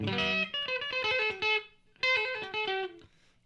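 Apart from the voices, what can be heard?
Reville MV guitar with P90 pickups through Joyo California Sound pedal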